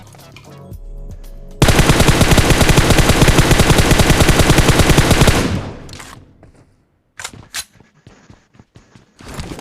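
Sustained automatic gunfire from a shooting video game, a loud continuous burst of rapid shots lasting several seconds, then scattered single shots and quieter game sounds.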